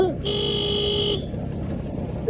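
An old scooter's horn, a single steady electric beep held for about a second, loud and close, with a voice murmuring around it.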